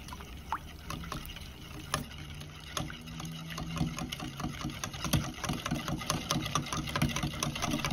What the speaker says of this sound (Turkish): Tüm malzemelerimizi çırpıcımızla çırpalım.